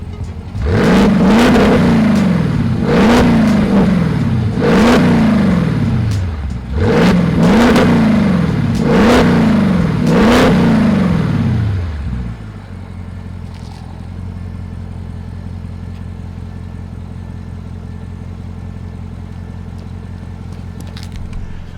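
Straight-piped Audi S7 engine revving hard in a rapid series of about six loud, close exhaust blasts, then settling into a steady rumbling idle with no talking.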